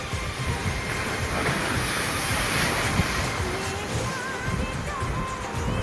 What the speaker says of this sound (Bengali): এই যে পেছনে ঢেউগুলো আসছে,